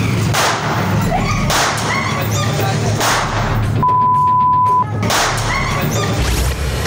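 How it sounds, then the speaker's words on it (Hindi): Gunshots fired inside a shop in Jafrabad, Delhi: several sharp, loud cracks spaced about a second apart, with a brief steady beep in the middle, recorded close. "सेकंड के इस वीडियो में चार बार गोलियां चली हैं।"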